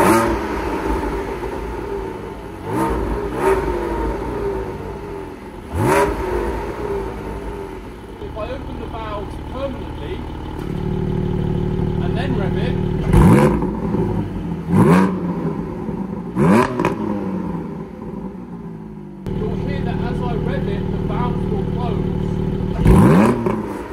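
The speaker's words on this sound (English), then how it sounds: "So now if I were to rev the car in stock form," A Porsche GT4 with its stock exhaust revs up repeatedly, the engine rising and falling in sharp, close bursts over a steady idle while someone speaks over part of it.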